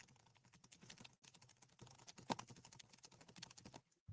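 A loud laptop keyboard clatters with rapid, uneven keystrokes close by, a few brief pauses splitting the bursts of typing.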